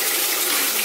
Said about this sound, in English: So I'm about to put it in the wash.